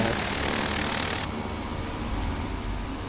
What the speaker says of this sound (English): as you can see, there's our propeller turning.